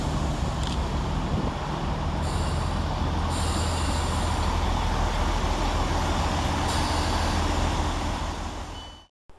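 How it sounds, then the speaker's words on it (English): A Class 166 passenger train arrives at Lawrence Hill station, rumbling loudly close by, steady heavy noise with brief high squeals and hissing brakes, fading out at the end. "here comes our train in the morning, 166208."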